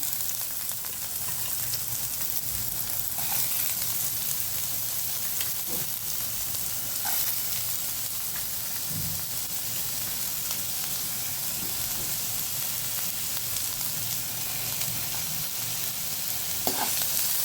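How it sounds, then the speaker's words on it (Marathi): Onions sizzle steadily in hot oil in a pan for baingan bharta, a continuous frying hiss with occasional scrapes and stirring clinks from the spatula, close and fairly loud with no talking. "हे छान परतून घ्यायचं तीन ते चार मिनटं परतून घ्यायचं"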